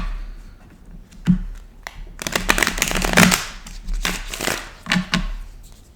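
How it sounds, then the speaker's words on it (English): Tarot cards shuffled by hand in repeated bursts of riffling and sliding, close and crisp, with light taps and pauses between passes and no talking. "We're gonna do it one more time. I'm gonna shuffle through."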